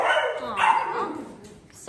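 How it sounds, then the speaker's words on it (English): A dog barks in the background while pups are handed over, with a couple of short barks and yips blending with a nearby voice over about two seconds. "barking in the background"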